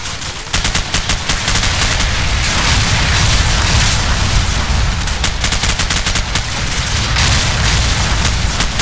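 Artillery strike explosions in Call of Duty 4: Modern Warfare, heard as loud, continuous rumbling blasts mixed with rapid gunfire bursts, dense and close throughout.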